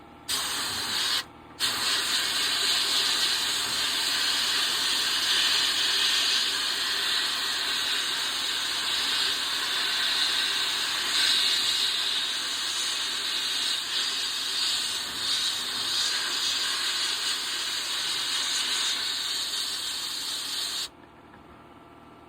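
Steel YZ80 chain tensioner blasted with glass beads in a Harbor Freight sandblast cabinet, a loud continuous spraying hiss that cuts out briefly near the start and stops abruptly at the end.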